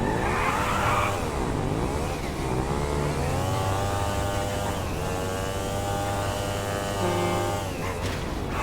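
Batty 801RR motorcycle in GTA 5 using the Akuma engine sound, a loud, close, continuous engine note that rises and falls through several revs and gear changes, with no talking.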